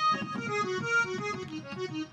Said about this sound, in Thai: อันนี้เป็นเสียงแอคคอร์เดียนนะครับผม